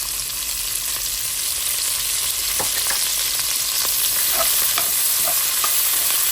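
Peppers, onions and herbs cook in leftover grease, a loud continuous sizzle close up with scattered clinks and scrapes of stirring throughout, no voices.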